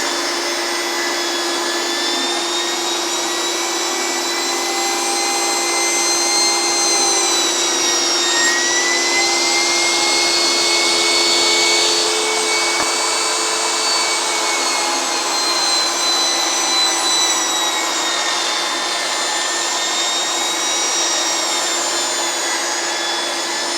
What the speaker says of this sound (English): So now we're going to go ahead and cut the strips and get that moving forward.